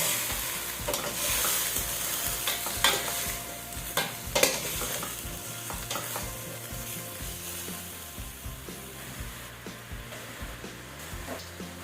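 A pan sizzles steadily as eggplant, okra and radish fry, with a utensil stirring and scraping through the vegetables. The stirring comes in close, uneven clatters over a constant frying hiss, with no talking.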